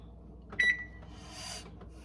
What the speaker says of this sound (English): actually I should turn this oven on